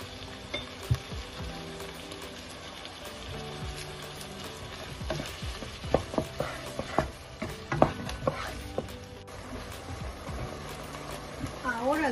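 Tilapia filling for crispy pescadillas being stirred in a pan, with scraping spoon strokes and soft clinks over a faint sizzle, under quiet talk.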